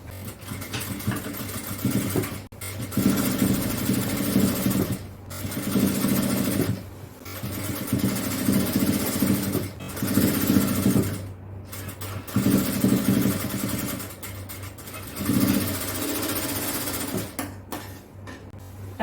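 A sewing machine stitches a seam on puff shorts in several bursts of fast, whirring motor noise, each a few seconds long, separated by brief pauses.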